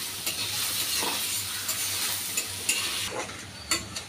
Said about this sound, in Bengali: এবার আদা রসুন পেঁয়াজ একসাথে ভালো করে ভেজে নেব